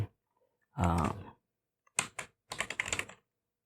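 Someone types on a computer keyboard while writing HTML code, in several short bursts of crisp, close key clicks separated by brief pauses, with a soft thump at the start.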